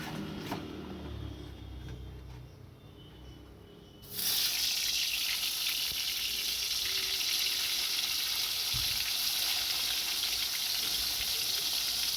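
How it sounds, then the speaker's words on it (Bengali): Quiet kitchen sounds give way to a loud, continuous sizzle of pointed gourd frying in hot oil, steady and close for the rest of the clip. "পটলগুলো ভাজা হচ্ছে"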